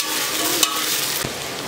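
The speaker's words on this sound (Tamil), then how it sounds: "வெங்காயம் நல்லா ப்ரௌன் கலரில் வரணும், அது வரைக்கும் வதக்கிக்கோங்க" Onions frying in oil with cashews and halved green chillies for seeraga samba chicken biryani, a steady close sizzle with a couple of brief stirring scrapes, no talk.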